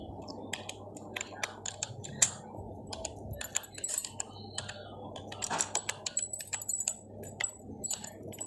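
Someone types in word art text on a computer keyboard in Microsoft Publisher: a close, quick run of light key clicks in uneven bursts over a quiet room.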